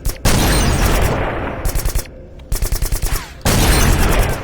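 G36 assault rifle fire in a first-person shooter match at a foundry map, loud close bursts and rapid single shots in quick clusters, with brief pauses between volleys.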